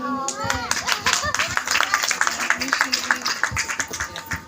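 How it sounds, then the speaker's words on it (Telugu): A group of children and adults clap their hands in quick, uneven bursts, with voices chattering and calling out over the clapping. "అలాగే మీరు చప్పట్లు కొడుతూ ఉంటే వాళ్ళని ఎంకరేజ్ చేసినట్టు ఉంటారు"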